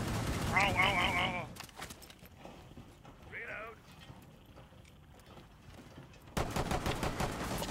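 Gunfire in the tactical shooter Rainbow Six Siege: a few sharp shots early on, then a loud, dense burst of rapid automatic fire near the end, with a voice speaking briefly between them.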